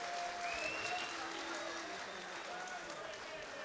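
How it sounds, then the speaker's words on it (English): A kickboxing event crowd applauds both fighters after three rounds, steady dense clapping filling the arena with a faint voice somewhere underneath. "a big round of applause for both men"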